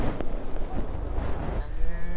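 Cattle moo near cattle houses in a remote Afghan mountain village, one deep lowing call close by over a rough outdoor background.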